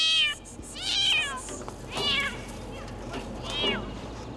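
A kitten that has just dropped safely from a height after a rescue attempt meows repeatedly outdoors, four clear, rising and falling cries spaced about a second apart over a steady background hum.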